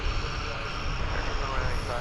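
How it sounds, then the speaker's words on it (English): An MD-11 airliner being pushed back at DFW Airport hums with a steady distant engine and broadband roar, moderately faint, under an outdoor wash of noise. "One of the 4 MD-11s that we have currently parked over there is indeed being pushed back now."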